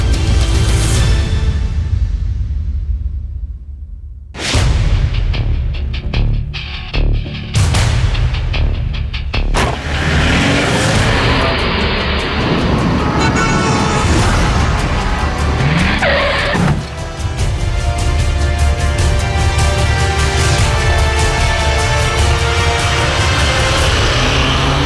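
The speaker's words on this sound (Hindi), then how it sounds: "गाड़ी ठोक दी, संभाल इसे जरा।" A car is rammed in a crash during a dramatized gangster encounter: loud engine roar and screeching tires build into heavy impacts and booms, sustained and close throughout.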